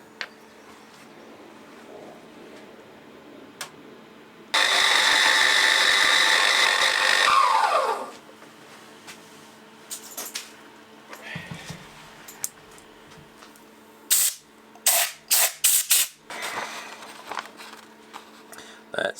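A milling cutter machines the exhaust port of a steam engine cylinder with a 12mm cut in a single loud, steady burst lasting about three seconds, then fades, followed by scattered clatter and sharp knocks.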